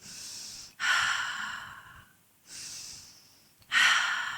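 Deep breaths during a full-body Pilates workout, two long airy inhale-exhale cycles heard up close and alone, each exhale a loud rushing whoosh followed by a quieter pause.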